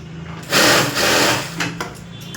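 A sewing machine runs in bursts while stitching the waistband hem of a boat-neck blouse, a loud steady whir for about a second, a pause, then shorter stop-start runs, close up with no talk.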